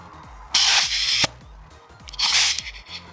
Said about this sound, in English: gonna use compressed air and push out the piston